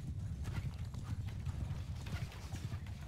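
Massed cavalry galloping during a video game battle, a dense, continuous drumming of hooves with occasional horse whinnies, loud and busy, with no voices.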